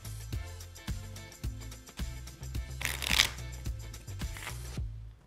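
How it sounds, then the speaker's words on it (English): A deck of playing cards is riffle shuffled close up, with soft taps and handling sounds leading to a quick, crisp flutter as the halves interleave, then a brief settle. "the third shuffle is the riffle shuffle"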